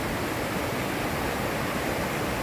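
River-like water from the Courtallam waterfalls rushes in a steady, dense roar, loud and unbroken, with no voices over it.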